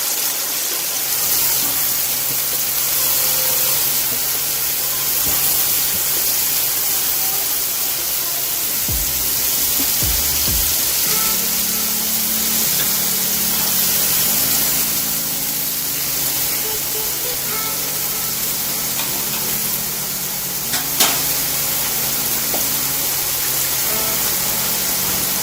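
Garlic fries in a pan for lasagne, a loud, continuous broadband sizzle that holds steady close up for the whole stretch, with no talking over it.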